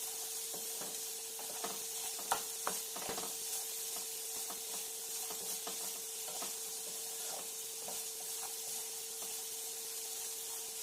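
Okra being stirred in a pan with oil over lowered heat: a soft steady sizzle under repeated clicks and scrapes of the spoon against the pan, close but quiet, with no voices.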